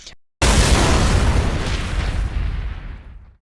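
A video game character in an Xbox Live Arcade 2D platformer explodes in one loud, close, booming burst that rumbles and slowly fades over about three seconds after a short silence.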